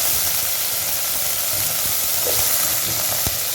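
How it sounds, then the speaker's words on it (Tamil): Potatoes go into onions already frying in a pan for a cabbage and mixed vegetable poriyal, and the pan gives a steady loud sizzle and hiss with faint stirring clatter. "இதில் உருளைக்கிழங்கு போட்டுறேன்"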